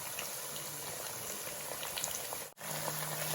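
Curry leaves and green chillies frying in oil in a pan for a dates pickle make a steady, hissing sizzle that carries on evenly with one brief dip, faint and close, with no talking.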